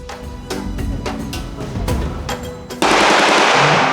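Rapid bursts of automatic gunfire ring out at a shooting range at the Cu Chi Tunnels in Vietnam, a series of loud repeated volleys followed by a sustained roaring burst near the end, with no talk.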